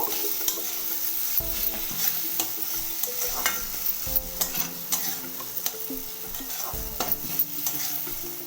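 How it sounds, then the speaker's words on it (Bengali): A spoon scrapes and stirs pumpkin, spices and fried gobindobhog rice in a pan, with repeated close knocks against the metal over a steady soft sizzle, and no voices. "আবারও খুব ভালো মতো মশলার সাথে মিশিয়ে নেব"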